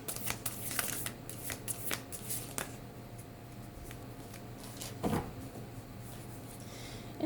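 A deck of Spirit Animal Oracle cards is shuffled close up in a series of crisp, papery riffles and flutters, with no one speaking.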